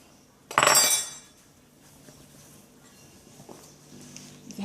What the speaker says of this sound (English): Now grab a sharp, clean knife and trim